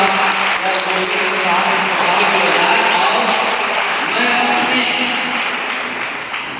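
Loud, sustained applause from a large crowd at an event at M.A.H Inter College in Gazipur fills the whole stretch, a dense wash of clapping that tapers slightly at the end.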